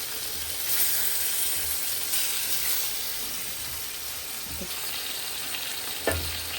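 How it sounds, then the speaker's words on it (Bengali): Chewa fish and spices sauté in a pan for a fish bhuna, giving a steady close-up frying hiss with faint bubbling and a couple of soft scrapes from stirring, no voices. "ভালো মতো কষানো হোক মাছটা"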